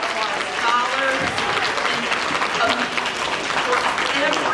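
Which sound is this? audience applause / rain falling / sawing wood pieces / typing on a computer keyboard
audience applause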